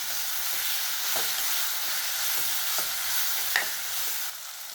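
Ingredients for aloo matar sautéing and stirring in a pan, a steady broadband sizzle throughout with a few faint scrapes of a spoon, close and fairly quiet, no voices.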